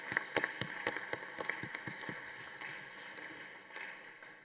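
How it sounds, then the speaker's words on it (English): Applause at the close of an international parliamentary plenary session: dense, sustained clapping from a large seated assembly filling a hall, sharp individual claps on top, steady throughout without talk. "Let us all give them a warm round of applause."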